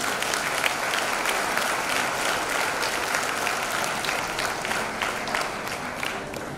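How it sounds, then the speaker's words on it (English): A school audience gives a long, steady round of applause at a girls' high school annual day, with dense, even clapping filling the hall for several seconds without pause. "I invite you to put your hands together and give them a loud round of applause."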